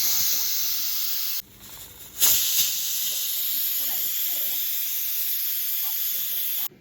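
A pressure cooker hisses steam steadily at a sharp, continuous pitch, with a brief dip and a puff partway through, close and fairly loud.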